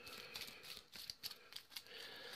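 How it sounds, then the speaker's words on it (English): A deck of train-car game cards for the Arkham Horror card game being shuffled, a faint close-up run of quick papery riffles and flicks in short bursts, with no talk. "we'll give these a good shuffle because they were in numerical order"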